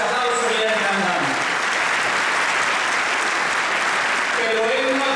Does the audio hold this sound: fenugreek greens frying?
no